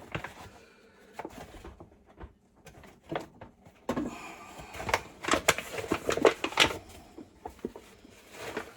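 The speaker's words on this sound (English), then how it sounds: "Just opening up a bag here." A plastic bag of flour being opened in a kitchen, with irregular crinkling rustles and crackles that grow busier midway, close and fairly quiet.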